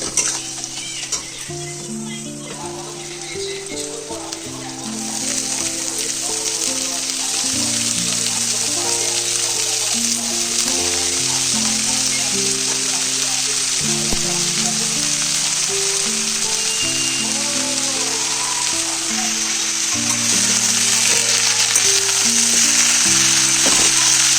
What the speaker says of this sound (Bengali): আর এদিকে শাকের জন্য পেঁয়াজ তেলে ফুটিয়ে দিয়েছি, শাকটা ভাজছি।